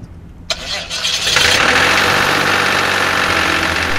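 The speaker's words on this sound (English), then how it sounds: "We said we'd test the diesel engine, so let's see what it's all about." An ExplorerAero Ecoflyer light aircraft's diesel engine cranks and catches, building quickly into a loud, close, steady running roar that continues to the end.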